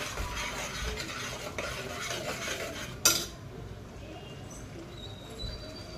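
Ground masala paste stir-fried in oil in a pan for smoky chicken, a soft hissing sizzle with scraping spatula strokes, a sharp metallic clank near the middle, then quieter sizzling with faint clinks.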